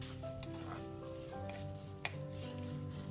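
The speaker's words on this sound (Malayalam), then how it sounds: "ഇനി ചെമ്മീനെ ചൂടെണ്ണയിൽ നല്ലവണ്ണം ഒന്ന് ഇളക്കിയെടുത്താൽ മാത്രം മതി." Cleaned, headless prawns sizzle in hot oil in a pan while being stirred for a prawn curry, a soft steady frying hiss with faint tonal background music and one small clack of a spoon.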